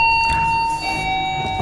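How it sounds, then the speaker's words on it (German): A doorbell sounds once in a large villa, a steady electronic tone held for over a second, loud and near over faint background noise, with no talk. "Ich klingel hier."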